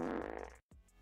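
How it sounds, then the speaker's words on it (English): A fart, a short low buzzing blast that cuts off abruptly, followed by a faint trailing rumble, close and fairly quiet with no talk. "Of course we had to have a fart."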